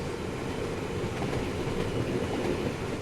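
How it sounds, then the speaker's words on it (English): A Class 350 electric train in the Train Sim World 5 video game rumbles steadily across junction points, with continuous rolling wheel noise and faint rhythmic clatter, no voices heard. "I love just how well they get the sound sometimes, especially crossing over junction points."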